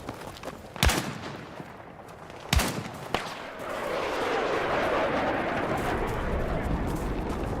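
Galil rifle fire in Battlefield 6 comes as a few sharp, separated cracks, then gives way to a sustained rumbling wash of distant battle noise.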